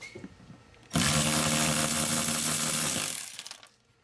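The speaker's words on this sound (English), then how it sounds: "So Abraham is gonna remove this panel for us. He's gonna remove these nuts." Power tool or impact wrench loosening nuts on a BMW X3 panel: one sustained loud whirring burst of about three seconds, stuttering as it winds down, with quieter ambient before and after.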